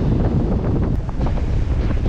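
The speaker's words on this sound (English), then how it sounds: "it's really windy today" Strong wind buffets the microphone at a seaside beach at Praia D'el Rey, a steady loud roar of gusts with the faint wash of surf underneath and no talking.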